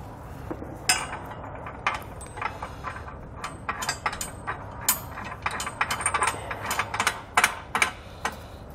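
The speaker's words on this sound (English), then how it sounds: "take our flange nuts here, and install those over the bolts." Flange nuts are threaded onto bolts while a Class III trailer hitch is installed on a 2020 Jeep Wrangler, with rapid metallic ratcheting clicks in uneven bursts close by and faint clinks between them.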